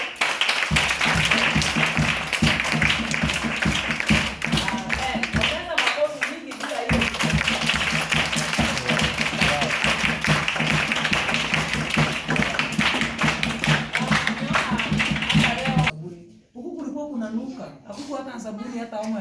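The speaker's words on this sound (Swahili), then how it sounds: "So tuwapigie makofi ninapowaweka." Steady applause from a group at a children's home Christmas gathering, dense clapping running for about fifteen seconds before dropping away into quieter sounds with voices.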